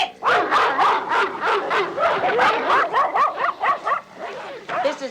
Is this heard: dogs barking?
yes